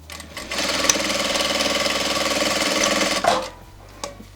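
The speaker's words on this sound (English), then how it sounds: "let's re-sew again" A home sewing machine stitches a satin bonnet in one steady, continuous run of rapid mechanical whirring lasting about three seconds, then slows and stops with a few faint clicks.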